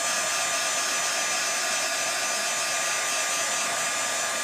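A hair dryer blows steadily on painted plastic gift boxes, a constant loud whooshing whine with no breaks and no voices.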